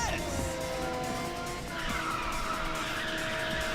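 A car drifts with squealing, skidding tires in Ridge Racer 6, the engine droning steadily under a high tire whine that eases briefly and then returns.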